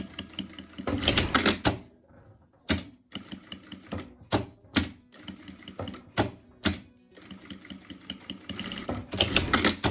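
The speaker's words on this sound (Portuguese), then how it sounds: "Agora nós vamos costurar em cima da linha." A sewing machine stitches a coin purse in short bursts of rapid mechanical whirring separated by brief pauses, with longer runs at the start and end, close and alone.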